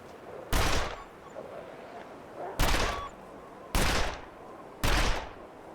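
Revolver gunfire in the video game Wintermute comes as four loud, heavy blasts spaced about a second or two apart, each with a short rough tail over faint background noise.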